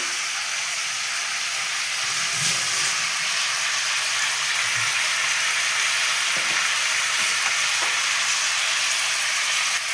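Chicken stew with vegetables sizzling and frying steadily in a pan as it is stirred, a continuous close hiss with occasional soft scraping knocks.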